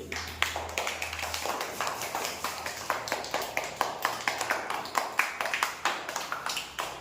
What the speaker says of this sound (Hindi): इसके लिए ताली बजाओ जोर से।